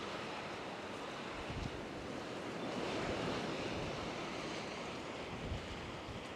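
Surf breaking on dark-sand Playa La Garita in Arrieta, Lanzarote, on a windy day: a steady, full wash of waves with continuous roar and wind buffeting, no voices.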